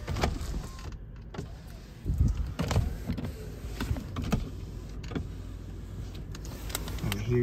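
Power windows on a 2008 Lexus LS460 run with a steady electric motor whir, heard from inside the car, with faint clicks and interior handling noises and no speech.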